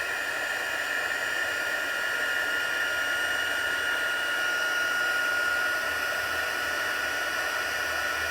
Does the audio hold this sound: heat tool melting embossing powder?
yes